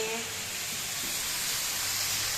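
Food frying in a pan in a home kitchen: a steady, loud hiss and sizzle fills the clip without pause, close to the microphone.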